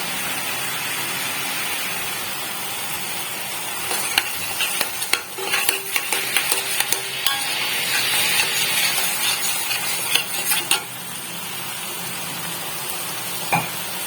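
Water being stirred into paneer curry in a pan, a steady soft sizzle and scraping swirl running throughout, with clinks of the spoon against the pan, close and moderately loud.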